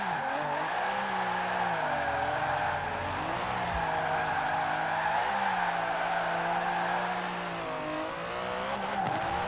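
A small Aston Martin in Forza Horizon 4 slides with a sustained, wavering tire squeal over a steady engine drone, loud and continuous throughout.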